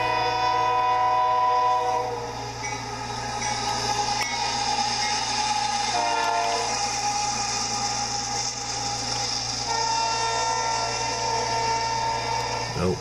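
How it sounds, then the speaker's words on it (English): A westbound CSX intermodal freight train rumbles past steadily with a loud, sustained horn blast at the start and a continuous metallic drone of rolling cars. "Like I hear a train coming."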